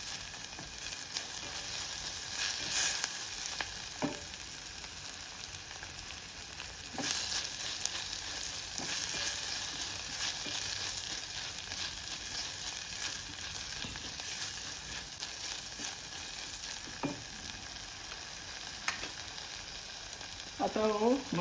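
Tomatoes frying in a pan for konge sukha, a steady close sizzle running throughout with a few scattered scrapes and taps of a spoon stirring and mashing.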